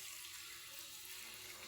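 Water poured steadily into a vessel for a cold drink, a faint, continuous hissing splash that stays even throughout with no voices.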